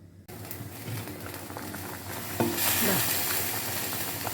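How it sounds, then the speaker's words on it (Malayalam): Fish curry in a pot bubbles and sizzles with a steady, dense simmering hiss close by, growing slightly louder partway through. "കറി നന്നായി തിളച്ച് വന്നിട്ടുണ്ട്"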